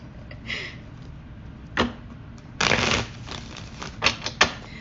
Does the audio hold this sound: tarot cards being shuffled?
yes